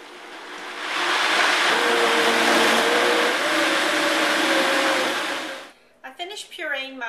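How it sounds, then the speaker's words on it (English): A kitchen blender purees a homemade ketchup mixture with a loud, steady whirring roar that rises as it spins up and holds for several seconds, then cuts off, followed by someone talking. "now I'm going to turn it on and I'm going to puree it until it's smooth"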